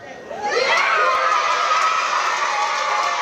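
Students at a school Veterans Day ceremony break into loud, sustained cheering and shouting, a dense crowd roar that swells quickly and holds steady.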